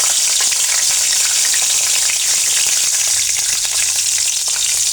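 Dried chillies frying in hot mustard oil give a steady, dense sizzle with fine crackling throughout, close and loud with no voices.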